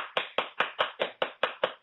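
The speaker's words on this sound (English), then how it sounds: "That's the sound of my fist hitting my hand." A fist strikes an open hand nine times in a steady, rapid rhythm, each slap sharp and close with a quick decay, and no talking.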